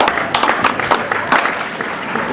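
Children's audience on a Yoruba-language game show clapping, a dense steady patter of hands filling the short stretch with a few louder bursts.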